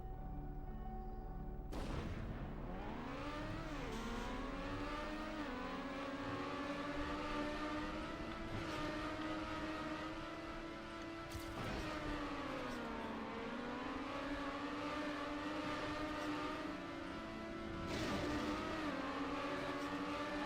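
A race car engine in a racing video game whines continuously, its pitch rising and falling with gear changes and slowing, steady and fairly loud with no talk.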